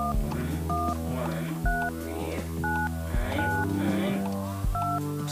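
Phone dialing tones from the VR game Please Don't Touch Anything, a series of evenly spaced keypad beeps ringing out clearly over a low steady hum.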